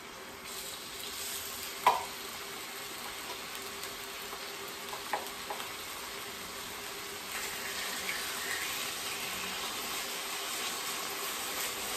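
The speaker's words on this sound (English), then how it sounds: "the two things that we're frying here, this is corn-fed chicken" Corn-fed chicken sizzles and crackles in a hot pan, a steady hiss with a few sharp pops and occasional stirring clinks.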